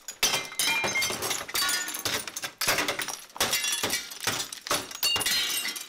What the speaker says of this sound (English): clear all the extra glass